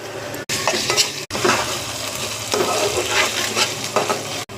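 A masala paste with ginger-garlic paste, ground cashews, almonds and garam masala fries in a pan for chicken fry, giving a close, continuous sizzle with repeated stirring scrapes and brief spoon knocks.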